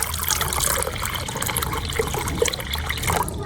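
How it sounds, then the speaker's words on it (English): Water pours steadily into a bowl of eggs with salt and baking soda, a continuous close splashing trickle with no voices. "Add enough water."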